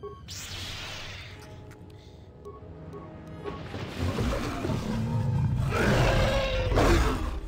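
A Storm Beast creature in the game Knights of the Old Republic 2 lets out deep, rumbling roars and growls that swell louder over several seconds, mixed with crashing, whooshing game effects.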